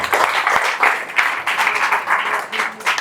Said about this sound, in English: Please clap for her, Anshika.